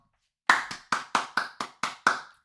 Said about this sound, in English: Round of applause for Cyanmedic.